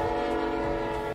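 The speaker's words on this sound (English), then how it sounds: "that train is loud" A passing train sounds its horn in one loud, sustained blast, close by and drowning out everything else.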